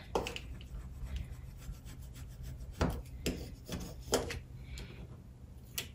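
Transfer tape being rubbed down onto a rectangular acrylic keychain blank: close, dry scraping strokes in an uneven rhythm, several sharper rubs standing out from a quiet background.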